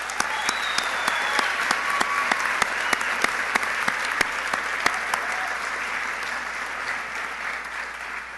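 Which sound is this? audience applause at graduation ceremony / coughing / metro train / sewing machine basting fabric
audience applause at graduation ceremony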